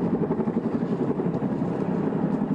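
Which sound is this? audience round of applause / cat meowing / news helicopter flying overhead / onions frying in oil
news helicopter flying overhead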